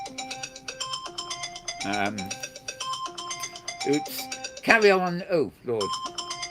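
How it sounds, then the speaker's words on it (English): A phone ringtone plays a repeating electronic melody of bright, evenly spaced tones, continuing steadily while a person speaks briefly over it. "That's my phone."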